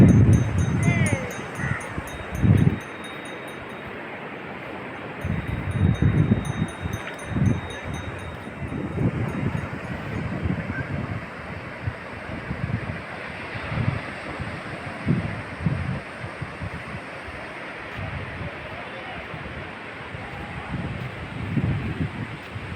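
Wind and surf at Gokarna main beach in Karnataka after sunset, a loud rushing roar with irregular wave surges and gusty buffeting on the microphone, continuous and close.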